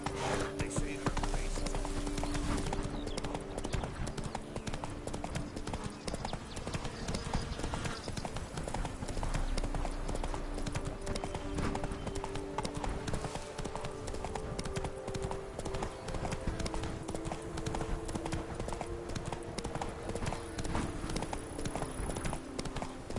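A horse gallops in the Witcher 3: Blood and Wine video game, its steady clip-clop hoofbeats running loud and continuous throughout, with ambient game sound underneath.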